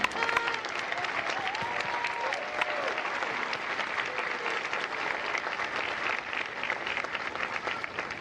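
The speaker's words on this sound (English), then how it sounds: "So please join me in a well-deserved round of applause for the drill instructors and families of Delta Company." An audience at a Marine Corps recruit graduation for Delta Company in San Diego claps for drill instructors and families, sustained dense applause filling the whole stretch at steady volume with a few faint cheers.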